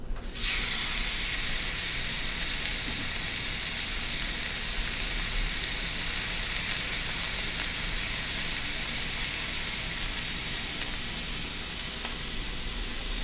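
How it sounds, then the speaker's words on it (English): Rib eye steaks searing in a hot pan give a loud, steady, close sizzle that starts abruptly and holds without a break, with no voices over it. "what we're going to do here is really just sear these suckers on the outside"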